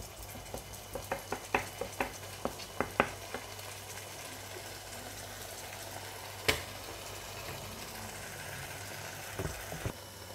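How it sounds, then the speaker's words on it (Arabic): Chicken fries with onion in a pan, giving a quiet, steady sizzle. Sharp utensil clicks and taps come in a quick run early on, then return a few times, all under a low background hum. "غادي نخلي الدجاج تاعي تحمر مزيان مع البصله"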